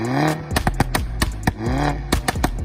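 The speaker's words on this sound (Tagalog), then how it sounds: "Ito yung tunog na pumuputok o lumalagutok sa tambucho kapag binibitawan ng pedal ng accelerator" An engine revs and falls off twice, each time followed by a rapid series of sharp crackling pops and bangs from the exhaust, loud and close.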